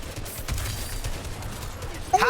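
Rapid gunshots in a Fortnite match at a DreamHack Open tournament, a quick volley under commentator voices, with a sharp bright crack at the very end.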